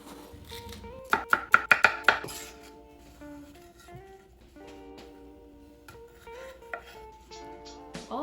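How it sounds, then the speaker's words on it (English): A knife slices quartered cucumbers and other vegetables thinly on a board, close up: a quick run of five or six crisp chops, then sparser single cuts and light clinks. "I'm just going to like quarter my cucumbers and really thinly slice them"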